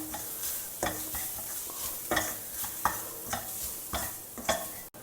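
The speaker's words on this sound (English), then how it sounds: "Now fry all the masalas well along with the onions." Masala spices frying with onions in a pan, rhythmic scraping stirs every half second or so over a low, steady sizzle, fairly quiet and close.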